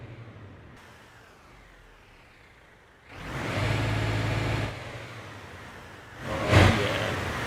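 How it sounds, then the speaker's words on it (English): In Euro Truck Simulator 2, a Volvo truck engine rumbles quietly, then swells into a louder rev for a couple of seconds, followed by a shorter, sharper burst near the end, with no talk. "That is a good sounding truck."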